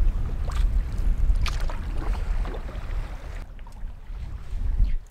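Canoe moving through rough water in the Canadian wilderness, with close splashing, sloshing waves and wind buffeting the microphone over a few seconds, no talk.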